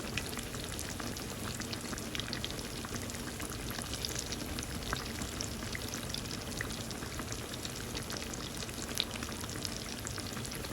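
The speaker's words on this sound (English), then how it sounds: "I'm doing the same with the eggplant. I'm frying it a second time." Eggplant frying a second time in hot oil on an outdoor stove, a steady dense sizzle and crackle that holds evenly throughout with no talking.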